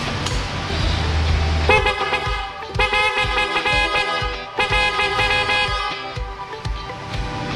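A 2020 Yamaha NMAX scooter's horn is tested repeatedly at close range, loud nasal toots in short and longer blasts with brief gaps between them.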